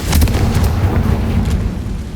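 A fiery Confringo blast spell bursts loudly in Hogwarts Legacy, a heavy booming explosion rumbling low and sustained for a couple of seconds with no talk over it.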